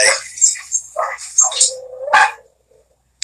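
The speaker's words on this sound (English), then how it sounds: "dogs are going crazy" Dogs bark in a quick, loud burst of sharp yelps close by, then fall silent apart from one last faint yip.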